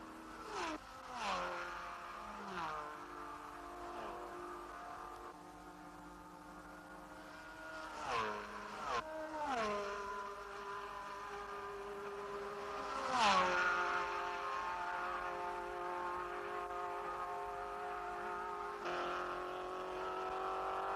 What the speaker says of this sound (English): Here's the Alpha of Giunti and Galli chasing the Matra